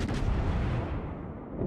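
A warship's main gun fires in World of Warships, one heavy booming shot that rolls out and decays over more than a second, loud and close with no voices.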